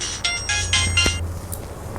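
A phone rings with a bright electronic ringtone in a few short bursts, fairly close, over a low steady hum.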